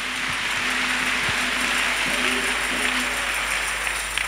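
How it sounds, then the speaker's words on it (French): A church congregation claps for Jesus during a testimony service, a steady dense wash of applause continuing throughout with no talk over it. "Let us clap for Jesus."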